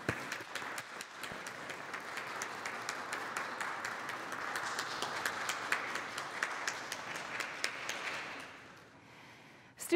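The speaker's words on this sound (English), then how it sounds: "We proclaim and promise this with an acclamation of applause." A church congregation at a Confirmation Sunday service applauds steadily for several seconds, dense clapping from many hands that fades out near the end.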